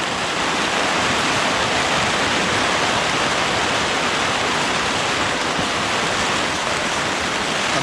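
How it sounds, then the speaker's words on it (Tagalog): Fast-flowing creek water swollen by persistent rain rushes in a loud, constant roar, dense and unbroken from start to finish. "Ang lakas ng tubig sa creek, oh."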